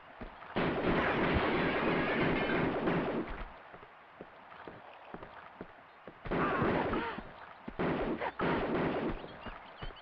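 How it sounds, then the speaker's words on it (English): Automatic pistols firing in Tomb Raider 2, heard as dense bursts of rapid gunfire in two stretches separated by a quieter gap with scattered shots, loud and close. "We'll get the automatic pistols out."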